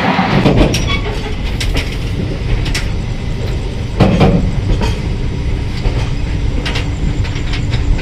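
The Mumbai Hyderabad Express train runs steadily on the rails, with a loud, close rumble and rhythmic clickety-clack of wheels over joints throughout.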